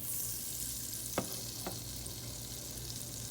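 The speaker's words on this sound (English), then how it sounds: "your butter to melt." Butter melting in a pan on a stovetop, a steady high hiss of sizzling with two brief clicks or taps near the start, held at an even level and no voices.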